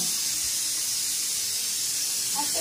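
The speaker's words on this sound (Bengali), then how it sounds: "চাল জল দিয়ে দিচ্ছি" Water poured over soaked rice in a home kitchen while making fried rice, a steady broadband hiss and splash running unbroken and fairly loud throughout, with no talking.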